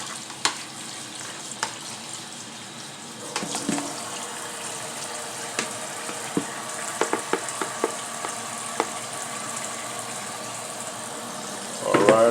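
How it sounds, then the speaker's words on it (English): Collard greens being rinsed under running water in a kitchen sink, a steady hiss of the tap with scattered splashes and knocks of leaves and hands, close by, ending with a louder gush. "Give them a good rinse."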